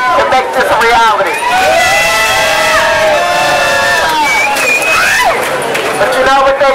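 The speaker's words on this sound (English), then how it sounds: "we all should give ourselves a round of applause" A large crowd at a community rally in San Francisco cheers and shouts loudly, with whistles and excited voices rising and falling together, close and continuous for several seconds.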